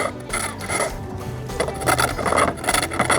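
Wood turning on a foot-powered pole lathe, with a cutting tool scraping and rasping against spinning wood in an irregular rhythm as the pole drives the work back and forth, close and continuous.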